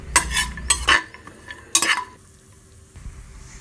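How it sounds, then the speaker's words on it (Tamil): Cashews frying in ghee for a vegetable biryani, with loud bursts of sizzling and spoon stirring against the pan early on, then a quieter low sizzle underneath. "இப்போ நெய் ஊத்தி முந்திரியை ஃப்ரை பண்ணுங்க."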